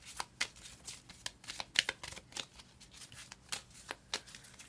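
Tarot cards are shuffled and drawn by hand in a quiet room, a rapid run of soft riffling flicks and snaps in irregular bursts, close and faint, with no talking.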